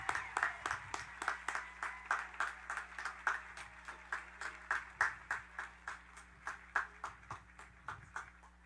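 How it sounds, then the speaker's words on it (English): Sparse, rhythmic clapping from a small audience honoring graduates at a Doctor of Medical Science hooding and commencement ceremony, steady, moderately faint, with no talk over it. "Please join me now in giving these graduates a large round of applause"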